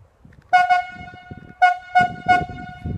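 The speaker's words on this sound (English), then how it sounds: "And then rigging whistles." A cable logging rigging whistle on a standing skyline operation sounds a signal: a short double toot, a pause, then three quick blasts, loud and clear over faint background noise.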